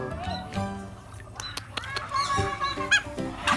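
Several ducks call, quacking and squawking in quick irregular bursts nearby, mixed with people talking.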